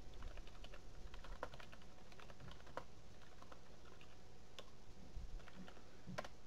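Fingers type on a computer keyboard at close range, a quick, irregular run of light clicking keystrokes over a faint steady background hum, with no talking.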